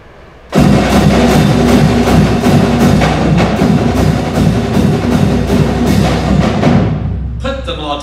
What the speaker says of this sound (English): Snare drums, bass drums, cymbals, and toms. No band is complete without a percussion section.